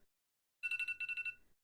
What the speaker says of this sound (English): That's the duck timer.